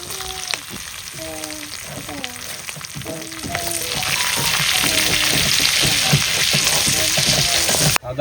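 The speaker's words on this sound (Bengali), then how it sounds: "তেলে ফোড়ন দিয়ে দেবো কালো জিরা আর গোটা গরম মশলা" Black cumin and whole garam masala sizzle and crackle steadily in hot oil during an outdoor village picnic cook-up, the frying hiss building louder and denser after a few seconds with occasional stirring.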